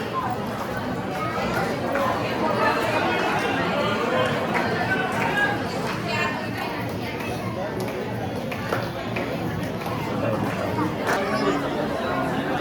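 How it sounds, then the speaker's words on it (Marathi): A dense crowd chatters steadily outside the temple at Akkalkot, many voices blending into a continuous, close hubbub with no pauses. "तिकडे आतमध्ये गर्दी नाही आहे, पण इथे गर्दी आहे."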